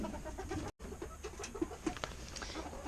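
Chickens in a mobile coop with 23 birds and nesting boxes cluck softly and repeatedly in a close, busy murmur, with a brief dropout partway through.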